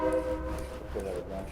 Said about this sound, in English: Cause there's trains.